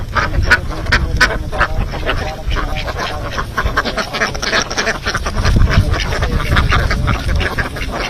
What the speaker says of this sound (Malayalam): ചെന്നിത്തലയിലെ പാടശേഖരത്ത് മാത്രമാണ് ഈ ഇനത്തിൽപ്പെട്ട താറാവുകൾ ഇനി